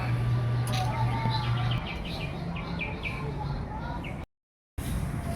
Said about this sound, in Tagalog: Ang ganda pakinggan ng huni ng mga ibon dito mga guys.